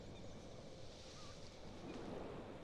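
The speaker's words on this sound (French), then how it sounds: "On entend du vent, on entend des craquements d'arbres et tout" Wind blowing steadily through a forest map in the game Animalia Survival, a soft continuous rushing wash with faint creaks, quiet and unbroken throughout.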